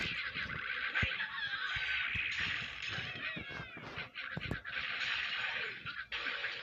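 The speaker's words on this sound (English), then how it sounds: "how the sound the crystals make when they explode" Crystals shattering during an Angry Birds Space boss fight, their bursts mixed into a busy layer of game music and squawking bird effects, steady and loud with a few sharp hits, no talking.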